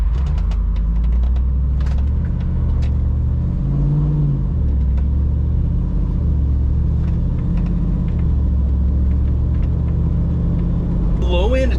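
Deep, loud engine rumble from a Jeep Wrangler with a swapped 6.4 Hemi V8 cruising on a road, with a swell of acceleration midway and someone talking over it.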